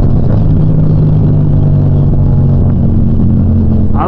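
A Yamaha FZ-07 motorcycle engine revs while downshifting, a loud, close, steady droning growl with a shifting pitch and wind rush, with no voices.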